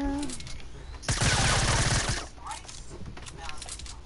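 A suppressed gun firing in rapid succession during a console shooter match, a dense, loud roughly one-second burst of quick muffled shots, with faint talk around it.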